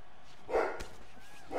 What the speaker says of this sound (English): my dog is now barking away